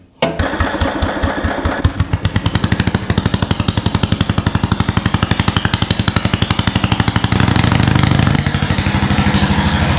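A cold vintage Simplicity tractor engine with a mounted snow blower, auger disengaged, sputters to life and settles into a loud, steady rapid chug, its pitch rising slightly toward the end.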